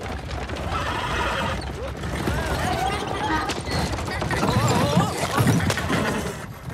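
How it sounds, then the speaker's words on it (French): Film foley for a Wild West scene: horse hooves clip-clop steadily while repeated loud whinnies and neighs rise over them, dense and busy throughout. "À ça, on peut rajouter les sabots des chevaux"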